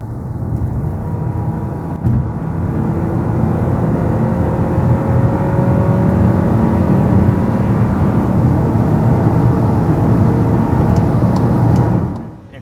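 A Volkswagen Taos Highline SUV with a 1.4 turbo engine and automatic transmission accelerates hard, its engine droning steadily and loudly from inside the cabin for about twelve seconds before easing off at the end.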